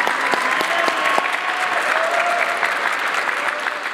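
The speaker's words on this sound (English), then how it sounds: "Everybody give him a round of applause." Audience applause at a high school spring concert, a steady wash of clapping from a crowd that carries evenly through the whole stretch, fairly loud and close.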